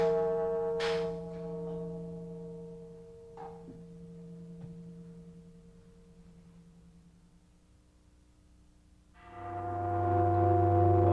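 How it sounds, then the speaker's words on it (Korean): Buddhist temple bell struck at night, its single deep tone swelling and then fading in a long, sustained hum that trails off slowly before a second strike returns loud at the end. "삼경을 날리는 종이 울리고야 강원의 불이 꺼진다."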